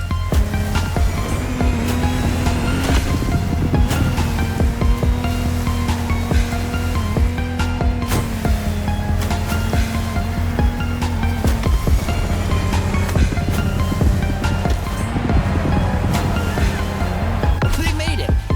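A Lamborghini Technomar speedboat races across the water in The Crew Motorfest, its engine droning loud and steady under constant splashing and wave noise, with brief shifts in engine pitch.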